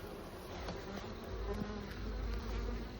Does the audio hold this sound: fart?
no